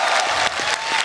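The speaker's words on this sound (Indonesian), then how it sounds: "Jadi boleh kasih tepuk tangan sekali lagi buat Abdur." Audience applause for a stand-up comedian at an Indonesian comedy competition show, a dense wash of clapping from a live crowd lasting about a second, steady and loud with slight dips.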